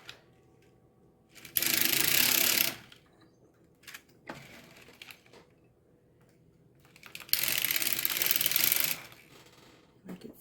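A circular sock knitting machine runs in two loud bursts of rapid clicking and whirring as a sock is knitted, with quieter mechanical clicks and handling noises between them.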